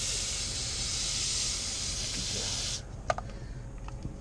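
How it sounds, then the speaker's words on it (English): Water runs steadily while detailing brushes are rinsed out after tire cleaning, a continuous close hiss that stops abruptly, followed by faint clicks and handling noises. "I'll rinse the brushes out"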